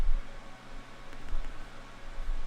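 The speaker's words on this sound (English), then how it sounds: "Sometimes the server seems that it's taking off on its own." Loud server fan giving a steady, broadband rushing whir that swells and dips slightly, close and unbroken, with no voices.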